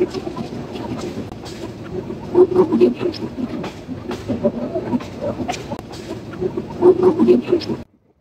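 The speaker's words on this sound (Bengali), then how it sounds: "বিমানবন্দর পেরিয়ে মহানগর এক্সপ্রেস ট্রেনটি বিশাল একটি বাঁক নিচ্ছে।" The Mahanagar Express on the Dhaka to Chattogram line rounds a wide curve past the airport at night, giving a continuous rumbling roll with rhythmic wheel clatter that stops abruptly near the end.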